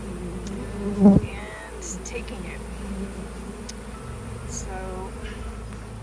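Faint buzzing of honey bees in a robbing frenzy in a backyard in North Port, Florida, in the background, with a brief burst of nearby talk near the start.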